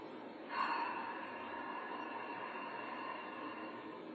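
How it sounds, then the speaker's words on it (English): A slow yoga ocean breath exhaled through the mouth after a deep inhale through the nose: a soft, steady airy hiss that starts abruptly and holds evenly for several seconds, quiet and close. "as you exhale through the mouth, you're going to make an ocean sound"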